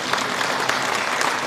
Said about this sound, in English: I think he and the entire band deserve a huge round of applause